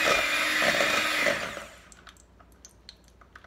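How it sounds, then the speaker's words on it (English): A hand mixer beats cheese and milk in a mixing bowl, a loud steady whirring drone that winds down and stops partway through, leaving faint clicks and taps afterward. "I'm just going to use my hand mixer today and beat this"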